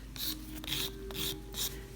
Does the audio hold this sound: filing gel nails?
yes